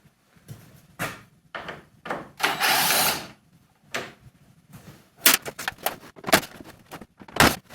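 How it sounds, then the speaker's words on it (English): Tools removing the bolts that hold on a car bumper, with close metallic clanks, ratcheting clicks and a sustained whirring burst from a power tool, then more clattering knocks. "taking off the actual bolts that hold on the bumper"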